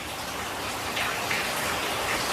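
Steady rain falls outdoors as a continuous, even hiss of drops on surfaces, fairly loud and unbroken throughout, with no voices.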